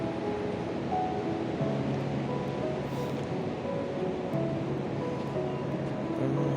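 Sea waves break and wash steadily onto Thikkody beach in Kozhikode, Kerala, a continuous close roar of surf that never quite fades, with a faint low hum running underneath.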